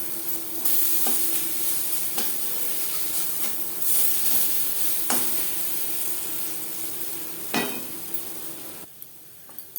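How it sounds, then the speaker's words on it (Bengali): Lentil fritters frying in hot oil give a steady, close sizzle and hiss, with occasional sharp crackles and spatter bursts as they are turned, and no talking. "একটা সাইড ভাজা হয়ে গেলে অপর সাইড উল্টে দেবো"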